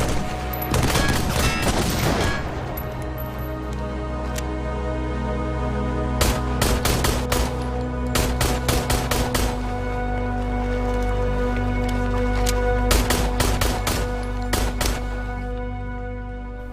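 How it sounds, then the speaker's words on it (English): Video game trailer combat: an enemy machine gun fires in rapid bursts, loud and close, with pauses between volleys over a sustained low musical drone. "The optic is a long-range enemy that pins down the player with a machine gun"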